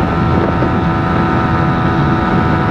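A Honda XRE motorcycle fitted with an aftermarket exhaust roars loudly and steadily at speed on the road, carrying two riders. Heavy rumble and wind buffeting fill the whole stretch.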